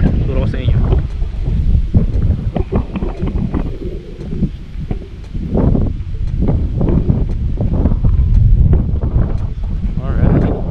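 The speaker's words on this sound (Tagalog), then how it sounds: "mahangin guys. Ang lamig ng hangin, no?" Steady outdoor wind rushing and buffeting the microphone, with a person talking throughout over the blustery background.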